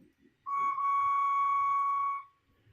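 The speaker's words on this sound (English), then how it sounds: "And a whistle." A single steady model steam locomotive whistle on an OO gauge model railway blows for nearly two seconds, clear and fairly loud, with faint background shuffling before and after.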